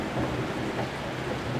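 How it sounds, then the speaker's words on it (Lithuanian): Thunder rumbles through a steady wash of heavy rain, heard from inside a home during a storm, with continuous broadband downpour filling the short stretch at moderate volume. "tai griaustinis griaudi ir labai lyja"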